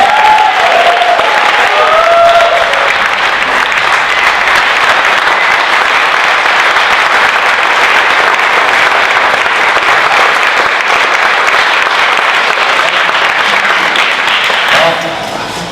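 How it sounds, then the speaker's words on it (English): Audience at a political event clapping for a congressman, a loud, dense, sustained wall of applause that holds steady for about fifteen seconds before easing off, with a brief voice heard near the start. "Don't clap, I haven't said anything."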